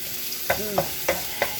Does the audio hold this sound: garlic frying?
yes